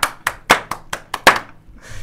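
Applause from a small studio audience on an Italian TV show: about seven sharp bursts of clapping in quick succession, then a softer patter trailing off at the end, with no voices.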